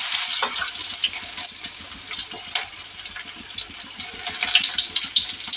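Sliced onions hitting hot oil in a pan while cooking a chicken liver fry, giving a bright, steady sizzle with crackling pops that runs continuously and close up, with no voices.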